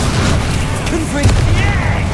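Confringo spell blast in Hogwarts Legacy, a heavy boom over constant game noise, with voices and effects mixed throughout.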